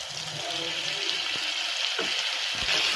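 Dried fish tipped into a pan of frying spice mixture for a Bengali fish and potato curry, giving a steady broad sizzle with a few soft stirring knocks, close and continuous with no talk.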